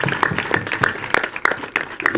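Scattered applause at a high school ceremony in Senegal honoring the teaching staff, uneven claps with distinct individual hits rather than a dense roar, moderately near.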